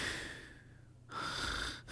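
A voice imitates snoring during a tabletop Dungeons & Dragons session: a breathy, snorting rasp that fades out, followed by a louder second rasping inhale, close and fairly quiet.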